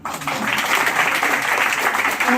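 An audience at a community club gathering claps steadily, a dense continuous patter of applause filling the room at moderate volume with a faint voice underneath.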